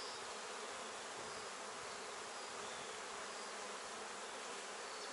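Honey bees buzz densely and continuously at a hive, a steady close swarm hum with no talk over it.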